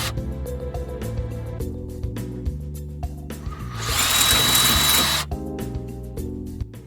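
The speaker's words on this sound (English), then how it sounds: "I'm going to drill these holes out a little bigger so that the new screws will fit" A power drill with a 15/64 bit enlarges screw holes during a 1989 Chevy K1500 door lock actuator replacement, giving one sustained whining burst of about a second and a half over steady background music.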